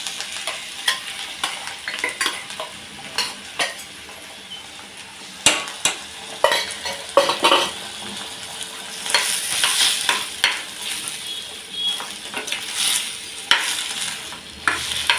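Mashed potato being mixed into chana rajma chaat in a bowl: steady, irregular scraping and soft clinking from a spoon, with sharper knocks now and then. Fairly close and moderately loud, with no talking.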